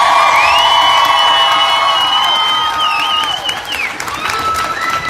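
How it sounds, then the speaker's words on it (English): A rally crowd at the Capitol in Sacramento claps, cheers and whoops loudly, with high whistles and shouts rising over steady dense applause for about five seconds. "Can we get a massive round of applause for Stephanie?"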